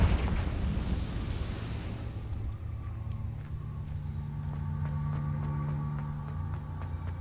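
The Confringo fire blast spell in Hogwarts Legacy starts with a loud, roaring burst that fades over about two seconds, followed by a quieter, lingering hum and scattered faint clicks.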